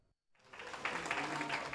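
Party colleagues applaud politicians arriving at the Congress escorted by police, a dense burst of clapping that starts after a short silence and keeps going steadily.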